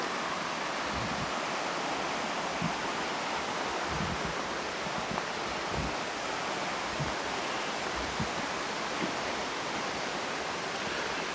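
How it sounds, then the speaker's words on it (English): A creek flowing below old cabin foundations in the Great Smoky Mountains, a steady broadband rushing of water that stays constant and fairly close, with no voices. "You got that beautiful creek down there."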